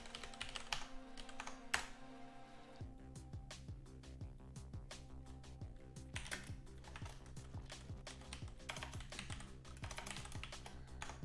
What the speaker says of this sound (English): typing in my excessive SSH password